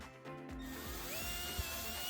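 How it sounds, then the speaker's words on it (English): A small power drill bores pilot holes into a wall: a faint, steady whirring whine that rises slightly in pitch as it runs, with a small knock near the end and no voices. "using the small drill bit, drill two pilot holes into the wall on those two marked areas"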